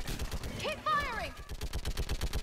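Rapid gunfire in the video game Mass Effect 3 pops in quick close bursts, interrupted briefly by a wavering electronic tone, then resumes in steady rhythmic shots.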